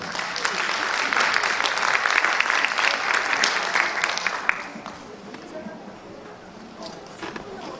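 Congratulatory applause from an award ceremony crowd, loud dense clapping that tapers somewhat toward the end, with faint voices mixed in.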